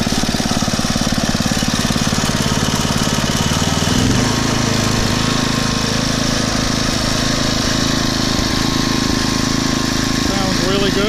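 Briggs & Stratton 5HP engine on a Poulan/Weed Eater garden tiller runs loud and close throughout, with a rough, uneven start that settles into a steady, smooth running drone after about four seconds.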